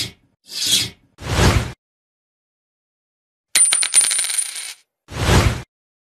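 Philippine 5-peso coins from 2012 clink and drop one after another in short separate bursts, with a longer ringing metallic jingle midway, close and with silence between the sounds.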